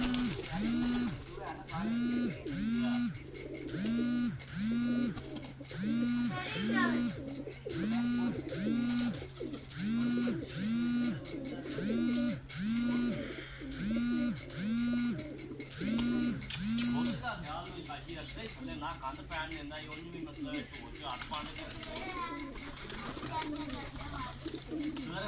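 Pigeons coo on a rooftop in a steady, rhythmic run of low throaty calls, close and clear, with people chatting in the background and a busier stretch of mixed noise near the end.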